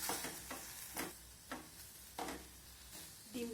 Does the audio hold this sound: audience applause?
no